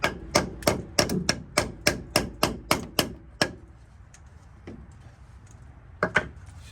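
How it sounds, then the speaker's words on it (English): Hammering on a transmission part of a 1977 VW Westfalia: a quick run of about ten sharp, evenly spaced metallic blows, then a pause with a couple of faint taps and two final strikes. "But I'm not gonna use my hands to hammer. I'm gonna use something else."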